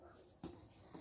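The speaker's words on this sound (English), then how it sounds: "I hear a dog." A dog gives two brief, faint yelps about half a second apart, sounding distant in an otherwise quiet space.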